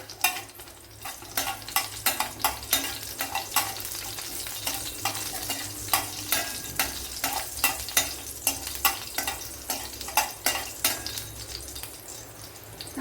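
Cumin and fenugreek seeds fry in hot oil with a steady sizzle while a spoon stirs and scrapes the pan in regular, repeated strokes, close and without talking.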